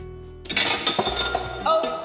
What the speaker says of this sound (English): Now, you're gonna get a big pot out.